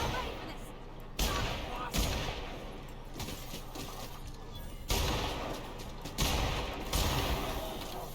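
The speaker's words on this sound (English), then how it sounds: "my weapon literally just incinerates them" Rapid weapon fire against enemies in The Outer Worlds, with repeated loud bursts of shots and impacts over a dense game-combat background, continuous for several seconds.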